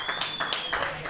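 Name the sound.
crowd applauding at a match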